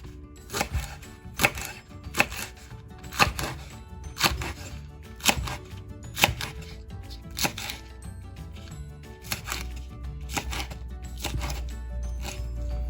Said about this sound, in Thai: เราจะหั่นต้นหอมก่อนนะคะ